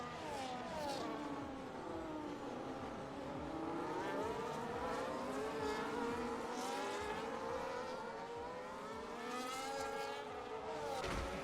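Race cars circle a Las Vegas drift track, with a continuous loud engine roar whose pitch sweeps up and down as drivers rev and accelerate, alongside tire noise and no talking.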